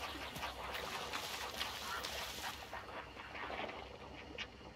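Ducks quack repeatedly in the Hunt: Showdown video game, scattered calls rising out of a dense outdoor swamp ambience at moderate distance, with no clear talk over them.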